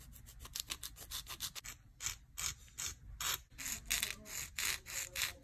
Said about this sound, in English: I forgot to show myself filing my nails